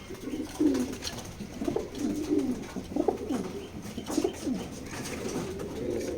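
A pair of racer pigeons coos softly and repeatedly nearby, low throaty rolling calls coming in a loose rhythm over faint background noise.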